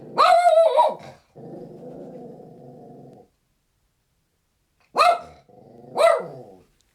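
A dog barks sharply, then growls low and steadily, goes quiet, and barks twice more; close, loud and alone with no talk.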